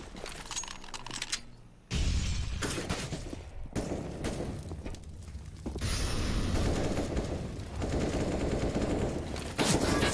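Dense bursts of automatic rifle fire in a professional Counter-Strike: Global Offensive match on the map Cache, loud rapid volleys with brief gaps, continuing steadily near the end.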